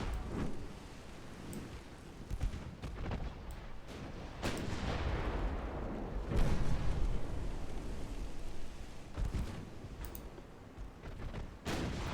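Naval gunfire from 10-inch armor-piercing shells in a German Empire naval battle game, with heavy booming blasts and rumbling impacts in irregular bursts over a continuous roar, loud and close with no talk.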